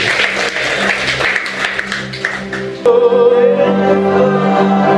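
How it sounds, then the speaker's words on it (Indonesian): Applause from a church congregation fills the first half, then gives way to sustained organ-like music with lingering tones. "Tepuk tangan yang meriah."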